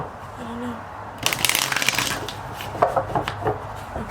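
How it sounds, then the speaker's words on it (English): Tarot cards are shuffled close up: a dense, papery riffling burst followed by softer, scattered flicks and taps of the deck. "I am shuffling the cards on camera"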